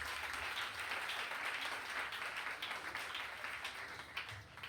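A church congregation applauding at a worship service, a dense, sustained wash of many hands clapping at a faint, distant level that eases slightly toward the end.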